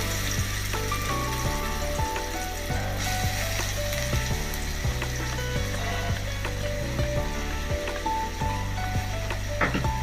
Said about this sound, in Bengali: পেঁয়াজটা একটু লাল লাল করে ভেজে নিতে হবে প্রথমে, যাতে পেঁয়াজের গন্ধটা না থাকে।